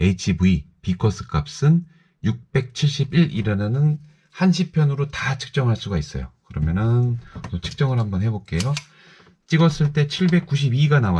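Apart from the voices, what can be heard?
No everyday noises stand out.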